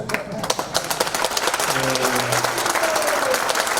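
An audience at a church broadcast marking the 70th anniversary of Pastor Son Yang-won's Korean War martyrdom claps, starting as scattered sharp claps and swelling into steady, fairly loud applause while a voice is briefly heard over it.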